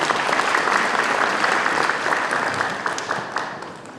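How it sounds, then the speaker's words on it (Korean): Audience at a Korean lawmaker's public report meeting in Seogwipo applauding to welcome a sign language interpreter, dense sustained clapping that gradually tapers off. "큰 박수로 맞아주시기 바랍니다."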